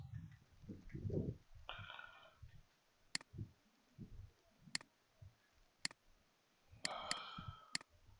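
Sharp, isolated computer mouse clicks while working in Microsoft Excel, a few crisp ticks spaced apart with one quick pair, alongside quiet rustling and soft low thumps in a hushed room.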